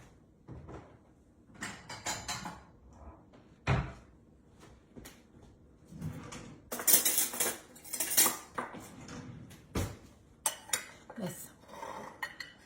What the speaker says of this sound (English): Let me get me a little bowl.